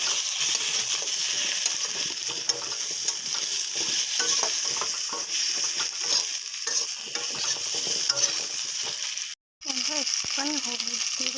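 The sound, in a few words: potatoes frying in oil in a pan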